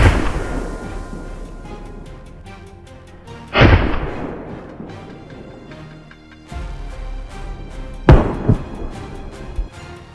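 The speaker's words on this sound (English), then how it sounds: "a volley of gunshots rang out" Two sharp, loud gunshots ring out several seconds apart during a feral boar hunt on California farmland, each echoing and decaying over a low rumbling background, with fainter shots in between.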